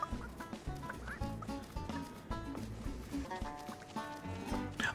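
Chickens cluck in a rhythmic, repeated pattern in the game Super Lucky's Tale, layered over soft background music at a moderate, steady level, with no voices.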